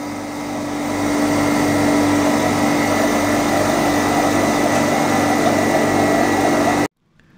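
Vacuum pump on a freeze dryer making coriander leaf powder starts up, ramping into a loud, steady droning hum with a constant tone for several seconds, then cutting off abruptly near the end.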